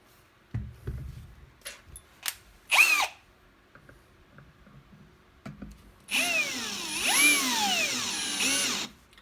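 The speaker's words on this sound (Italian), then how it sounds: "Voglio fare una prova ed avvitare delle viti direttamente senza preforo." A Parkside Performance brushless cordless drill-driver drives screws straight into material with no pilot hole, giving a few short trigger bursts and then one loud sustained whirring run of about three seconds that bogs and rises in pitch near the mic.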